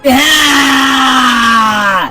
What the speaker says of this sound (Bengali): তো এখানে সে পাগল হয়ে যায় আর চিৎকার করতে থাকে